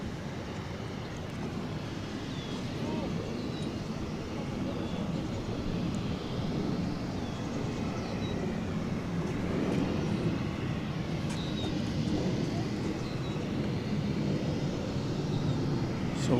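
An MD-11 jet at DFW Airport rumbles as a broad, steady distant roar that swells slightly and persists, with a faint whine and light wind noise.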